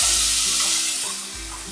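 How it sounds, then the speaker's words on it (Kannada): Ground coriander rasam paste, added over dried red chillies, stirring and sizzling in a pan on low flame; a steady close sizzle with soft scraping stir strokes, no talking. "ನಂತರ ನಾನು ರುಬ್ಬಿಟ್ಕೊಂಡಿರೋಂಥ ಮಿಶ್ರಣನ ಹಾಕೊಳ್ತಾ ಇದ್ದೀನಿ"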